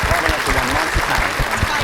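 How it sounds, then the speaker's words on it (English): An indoor audience at a Comic Relief charity fundraiser claps steadily in a full round of applause, dense and close for a couple of seconds. "applause."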